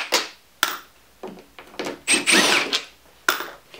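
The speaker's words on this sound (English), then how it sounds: "to speed things up, I'm going to be using my impact gun. Take out all these screws." An impact gun removes screws from a Yamaha DGX640 electric piano in several short, sharp whirring and rattling bursts separated by brief pauses, close and fairly loud, with no talking.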